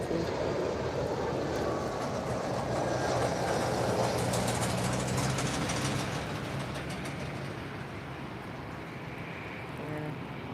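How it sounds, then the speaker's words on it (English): A Brussels Airlines Airbus A320 landing at Lisbon airport produces a broad, steady jet roar that swells and then gradually eases off, heard from a distance. "we have a landing coming in first. The Brussels Airlines and A320."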